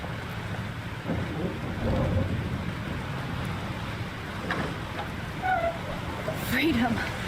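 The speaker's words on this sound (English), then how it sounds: "This storm is real." A rain-soaked thunderstorm rumbles in the Life is Strange game world, a steady wash of downpour and wind with low rolling swells, while voices and brief tonal game sounds sit on top of it.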